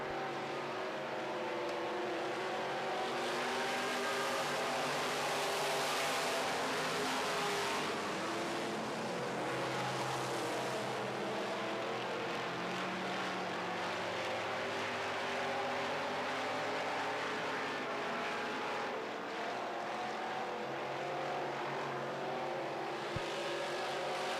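Modified race cars tearing around a dirt oval during a Midwest Mods heat race, a loud continuous roar of several engines that swells and fades as the pack passes, with no talking heard over the racing.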